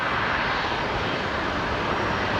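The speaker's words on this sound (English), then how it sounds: "Qantas 98 has just arrived here on runway 19 left" A Qantas jet landing on runway 19 left at Brisbane Airport after a flight from Manila, heard as a steady, broad engine roar that holds at one level throughout, with no talk over it.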